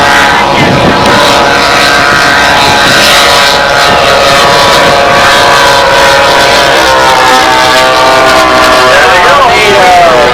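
A radio-controlled scale C-47 model aircraft flies at a windy national scale model meet, its engine drone steady and loud throughout with a shifting pitch as it passes, while people talk nearby.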